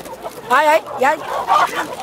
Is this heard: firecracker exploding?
no